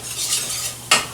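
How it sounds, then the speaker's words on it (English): A flour and butter roux is stirred briskly in a soup pot, a soft continuous scraping swish ending in one sharper clink of the spoon against the pot. "And you just want to stir vigorously"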